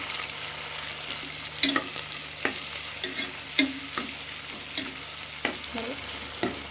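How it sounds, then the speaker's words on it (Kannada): Tomatoes frying in oil for chicken biryani, stirred with a spoon: a steady close sizzle with sharp scraping clinks of the utensil against the pan at irregular intervals, no voices. "ಅದನ್ನು ಅಷ್ಟೇ ಎಣ್ಣೆಯಲ್ಲಿ ಚೆನ್ನಾಗಿ ಫ್ರೈ ಮಾಡ್ಕೊಬೇಕು. ಟೊಮೆಟೊ ಎಲ್ಲ ಸಾಫ್ಟ್ ಆಗೋವರೆಗೂ ಫ್ರೈ ಮಾಡ್ಕೊಬೇಕಾಗುತ್ತೆ."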